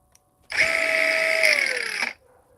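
A handheld battery-powered angle grinder whirs steadily for about a second and a half, a loud close motor whine that shifts slightly in pitch before cutting off.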